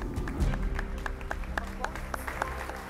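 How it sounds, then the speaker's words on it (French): Audience applause at a WNBF France bodybuilding competition, a soft, distant patter of clapping under low rumbling room noise and faint voices. "Allez, applaudissez bien."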